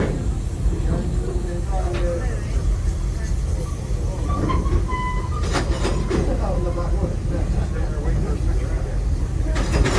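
A safari tour train at Busch Gardens rumbles and clatters steadily along the tracks, with scattered voices and chatter from passengers riding on board.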